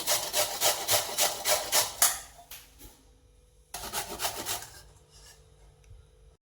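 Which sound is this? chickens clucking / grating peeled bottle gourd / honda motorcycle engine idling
grating peeled bottle gourd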